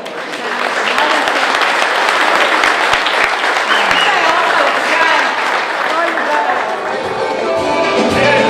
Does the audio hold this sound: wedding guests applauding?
yes